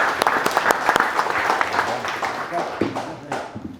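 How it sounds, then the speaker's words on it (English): Audience applause at a startup pitch event where app founders meet investors, a room of dense clapping that stays loud and steady, with a few louder individual claps and some voices mixed in, fading slightly at the end. "let's give JB a big round of applause."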